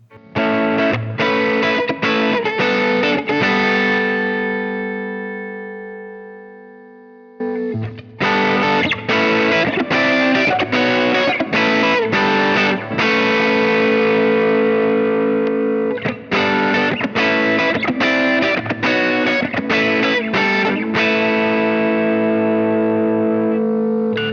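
Distorted electric guitar chords through a Fractal Audio Axe FX compressor block, compared in two modes, ring out loudly in two passages separated by a brief fade, the sustained notes holding fairly even in volume.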